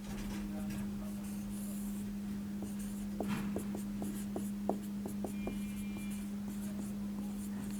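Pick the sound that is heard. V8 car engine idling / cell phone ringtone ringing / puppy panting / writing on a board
writing on a board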